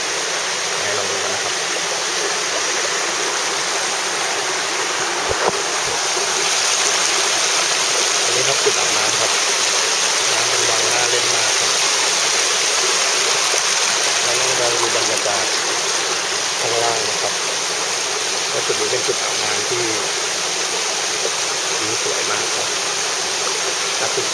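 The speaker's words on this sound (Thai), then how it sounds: "ดูน้ำซะก่อนครับไหลออกมาจากตรงนี้ครับ" Water from a mountain stream at a bathing spot in the Umphang hills rushes steadily and loudly and without a break, a dense broadband wash throughout, with someone speaking faintly underneath.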